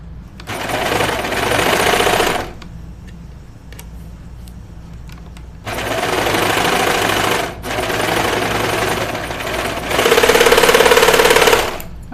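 A serger stitches knit fabric for a Lucida dress in three loud, fast-whirring bursts of about two seconds each, separated by quieter pauses with light clicks and handling noise.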